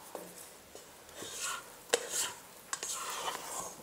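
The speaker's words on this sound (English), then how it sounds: "I'm gonna grab my scraper and clean down the sides of the bowl." Scraper working around the sides of a bowl of sourdough shokupan dough, soft intermittent scrapes and light taps, quiet and close.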